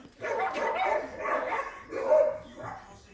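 Two stubborn little puppies bark and yip in about four quick, close bursts. The barks are loud and come in an uneven rhythm.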